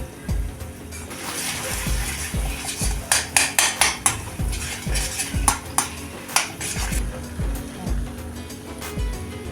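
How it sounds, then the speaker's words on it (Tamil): Mango thokku pickle with a piece of jaggery gets stirred in a pan, a rhythmic series of close metallic clinks and scrapes from the spoon against the pan over a low background hiss. "கடைசியாக ஒரு சின்ன துண்டு வெல்லம் போட்டு மிக்ஸ் பண்ணிக்கோங்க"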